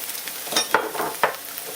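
Onions frying softly in a pan with a few stirring scrapes, quiet and close, no talking.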